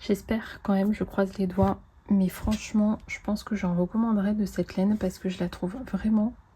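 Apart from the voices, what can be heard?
No distinct noise like a dog, phone or traffic.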